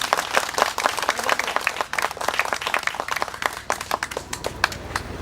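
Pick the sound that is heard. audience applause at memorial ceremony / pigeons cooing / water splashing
audience applause at memorial ceremony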